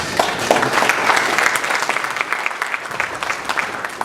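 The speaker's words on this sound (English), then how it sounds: "we can give them a round of applause" A conference audience at an energy-sector dialogue event applauds its organizers, a steady, dense wash of clapping from many hands that holds at an even level throughout with no voices above it.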